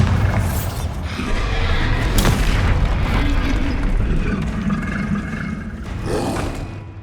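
Spell-casting explosions from the Hogwarts Legacy video game, with repeated booming blasts and bursts over continuous rumbling game action, loud and close throughout.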